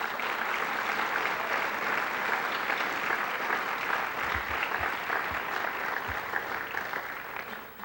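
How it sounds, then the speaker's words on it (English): Banquet audience at a high school fine arts event applauds the instructors, a steady, dense clapping that fills the room for the whole stretch with a few low thumps near the end. "please give all those instructors another round of applause"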